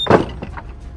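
A door is jerked open with one sharp, close thunk, followed by a couple of faint creaks and rattles.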